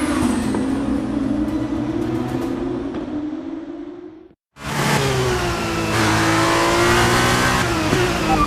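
An F1 car in the F1 23 game pulls out on brand-new tyres, its engine droning steadily, then cutting out briefly before roaring back loud and close with rising revs.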